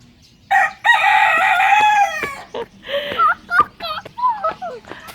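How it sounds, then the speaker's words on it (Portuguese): A rooster crows loudly and close by, a long harmonic call followed by shorter broken crowing notes, with a voice faintly in the background. "o galo sobe no poleiro. Puleiro. Pra cantar."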